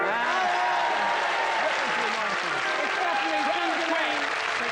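A television studio audience applauds for a contestant in a comedy show vote, a dense steady clatter of clapping over a crowd, loud and sustained throughout.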